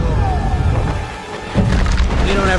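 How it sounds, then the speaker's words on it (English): Cannon fire during a ship-to-ship cannon battle in Pirates of the Caribbean: The Curse of the Black Pearl, heavy booms and rumbling blasts layered over a loud, dense battle soundtrack. "Just a cannon battle, dude."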